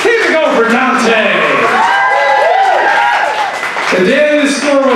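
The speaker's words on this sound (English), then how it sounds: "Applaud the poet" Slam poetry audience in Dayton, Ohio claps and cheers for a poet, a sustained wash of applause and whoops sitting beneath a loud emcee voice talking over it.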